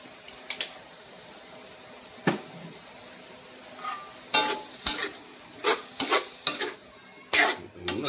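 Fish cooks in a pan after liquid seasoning goes in, giving a soft low sizzle beneath a run of sharp scraping and clinking strokes from a utensil against the pan, quick and irregular.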